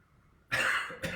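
Two coughs during a slow yoga breathing practice, a sharp loud first cough after a quiet breath, then a shorter second one close by.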